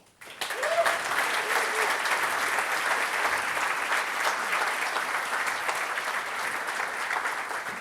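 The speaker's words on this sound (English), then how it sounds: "huge round of applause for them" A conference crowd at a Python developer event in Italy gives a big round of applause, a sudden onset of many hands clapping that stays dense and even throughout, with no speech over it.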